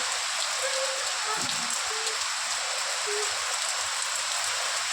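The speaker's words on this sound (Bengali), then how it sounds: "এই এত গরমের মধ্যে বৃষ্টি এসছে" Steady rain falls during hot weather, a dense even hiss of drops with no pauses, and a few faint tonal chirps sound in the background.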